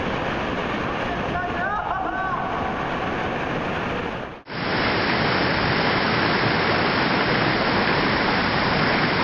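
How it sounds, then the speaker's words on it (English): Water rushing down a canyon water slide in Jordan, a loud continuous roaring hiss that briefly dips to near-silence before surging back even fuller and steadier. "Go down the water slide."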